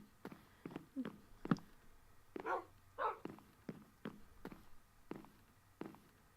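A dog in the Minecraft video game yelps and barks in short, sharp bursts, several quick cries spread across the moment over soft tapping like footsteps, fairly quiet overall.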